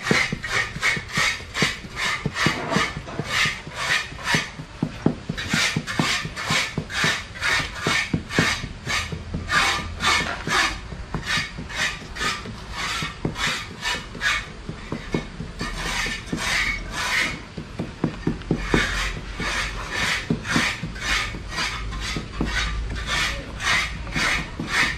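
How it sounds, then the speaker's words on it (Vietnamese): A rubber mallet repeatedly taps mortar packed into a mould for a cast basin with kneeling legs, giving a long run of close, sharp, evenly spaced knocks with brief pauses between bursts. "Như việc sử dụng búa cao su gõ này sẽ giúp cho cái vữa này nó sẽ được ép lại rất là chắc"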